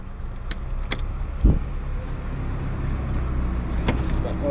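Car keys jangling in short metallic bursts near the microphone, with a brief thump partway through over a steady low hum of a car in hot weather.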